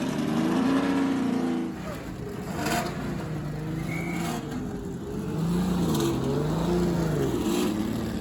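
A recreation of the 1961 Ferrari 156 Italian GP racing car, Phil Hill's World Championship winner, runs at the Goodwood Revival with a droning engine tone that rises and falls. A few faint voices sound alongside it.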